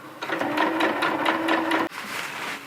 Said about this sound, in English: I'm just going to line up the bug netting on the marks that I made and just sew away